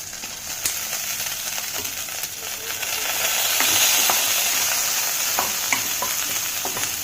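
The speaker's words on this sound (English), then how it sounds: "Everything is popping a lot, so please use low flame" Spices, garlic and ginger popping and sizzling in hot oil for Mumbai-style vada pav, a loud, close, continuous sizzle that swells midway, broken by sharp scattered pops, with no talking.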